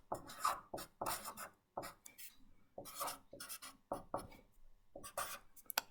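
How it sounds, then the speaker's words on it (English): An example math problem being written by hand: faint, close scratchy strokes that come in short bursts with brief pauses between them. "So I'm gonna write down an example here for you."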